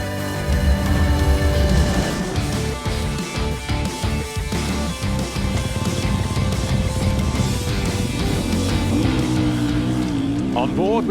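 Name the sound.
Beta motocross bike racing at MXGP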